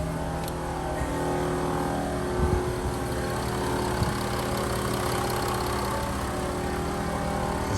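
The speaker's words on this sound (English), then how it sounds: "We are now outside with the engine running perfectly fine." A Range Rover engine runs steadily at a low idle-like rumble as the car pulls out of a workshop, close and continuous with a few small knocks and no talking.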